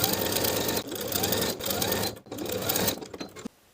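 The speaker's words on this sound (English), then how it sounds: "Then we'll edge stitch along the raw edges all the way around to complete the hem." A sewing machine edge stitches along the raw edges of a cardigan hem, a loud close run of rapid needle chatter that pauses briefly twice before stopping.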